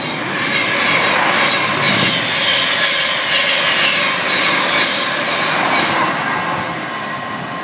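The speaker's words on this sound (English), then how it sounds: "about to thunder past is a Thameslink service to Bedford" A Thameslink Class 700 train bound for Bedford thunders through Mill Hill Broadway station on the Midland Main Line, giving a loud, sustained roar and rush close by that eases slightly at the end.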